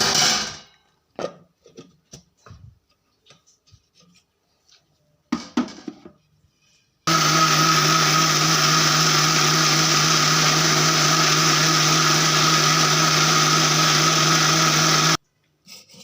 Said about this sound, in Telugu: కొంచెం వాటర్ అయితే వేస్తున్నాను వేసుకొని మిక్సీ పట్టేసుకుందాము